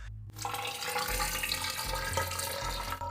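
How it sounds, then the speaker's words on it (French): Water flowing through a pump tube in a homemade ice-cooled PC, a steady close rushing trickle with a low pump hum underneath, continuous throughout. "L'eau s'écoule activement de notre tube."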